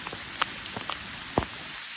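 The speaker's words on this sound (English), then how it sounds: "It's pouring, as you can tell." Heavy rain pours steadily onto a hiking trail on the Appalachian Trail near Hanover, New Hampshire, a dense hiss broken by a few louder close drops and splashes.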